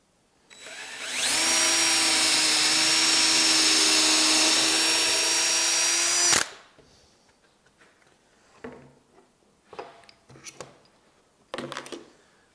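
A power drill spins up sharply and whines at high speed for about five seconds boring a pilot hole through wood, then stops, followed by quiet clatters and knocks of handling.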